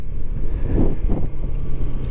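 Honda ADV160 scooter engine on a test ride along Marilaque mountain road, a steady loud drone under heavy wind rush, continuous with no talk.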